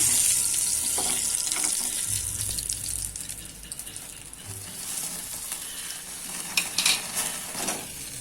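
Tandoori chicken pieces sizzle on a tawa over a stovetop flame, a continuous soft hissing crackle with occasional louder spits and clinks, steady and close throughout.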